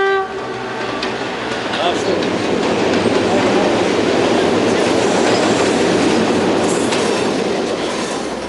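A train runs along railway tracks past the listener, its wheels setting up a steady, loud rumble and clatter that fills the whole clip. A horn-like tone sounds briefly near the start.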